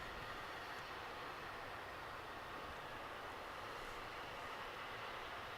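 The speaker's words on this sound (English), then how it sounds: "a FedEx flight coming in from Memphis. I think it's a 767" A FedEx Boeing 767 arriving from Memphis at DFW Airport, a faint, steady, broadband jet rush held at a constant level, heard from a distance with no talk.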